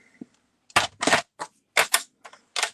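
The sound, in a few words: trimming a piece of card for a scrapbook page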